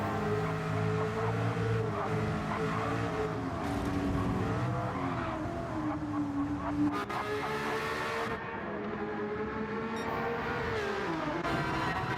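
A race car in Gran Turismo 7 during a GT championship round roars continuously, its engine note rising and falling through gear changes and corners, loud and close for the whole stretch with no talk.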